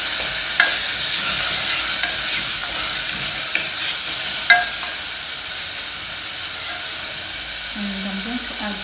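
Mashed potatoes being stirred and mixed in a pot for a guacamole dish, a soft scraping swish with a few sharp clicks of the utensil against the pot, close and fairly quiet.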